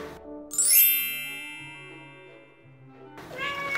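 A bright ringing ding fades slowly, then a cat meows briefly near the end.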